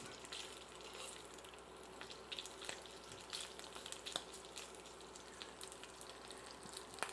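Leftover Italian hot pork sausage frying in a pot, a faint steady sizzle with scattered small pops and crackles throughout.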